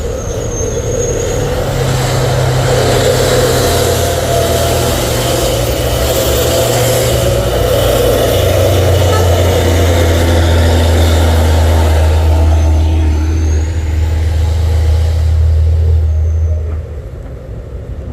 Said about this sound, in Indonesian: Hino melanjutkan perjalanannya bosku, menanjak ulang